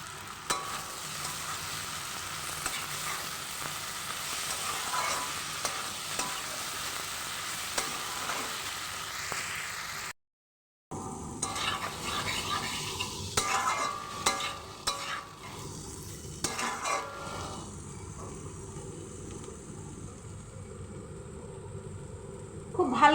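Ground coriander, cumin and Kashmiri chili powder stirred and fried in a pan for a lunch dish, a steady sizzle with spoon scrapes throughout, a brief dropout midway, then quieter frying.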